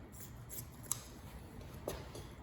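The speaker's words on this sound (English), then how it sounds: "I'll finish it up with the scissors." Scissors snipping through a squirrel carcass while it is being skinned, two or three faint, brief cuts heard close up against a quiet background.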